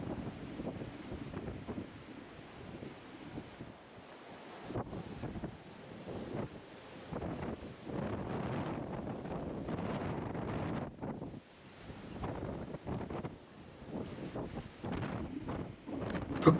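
Strong sea wind gusts at Namae harbor in Yangyang, giving a constant, rough rushing that swells and dips, with faint surf beneath and no talking.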